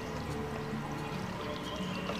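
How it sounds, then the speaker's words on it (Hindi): Water pours steadily onto the soil of a potted cherry tree being grown as a bonsai at home, a continuous close splashing trickle with no talking. "आप देख सकते हैं मैं पानी दे रहा हूँ"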